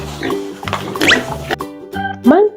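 Toy pig sound effect: a few close, short grunting oinks with a squeal at the end, brief and loud, with a voice speaking around them.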